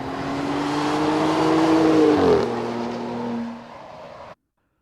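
Truck with OE valve mid-pipe exhaust drives by outside, the engine note swelling as it nears, dropping in pitch as it passes and fading away before cutting to silence.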